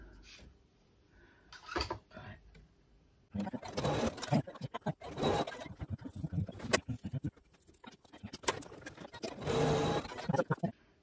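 An embroidery machine sews out an applique design, nearby and fairly quiet. Bursts of rapid mechanical stitching alternate with short pauses and clicks.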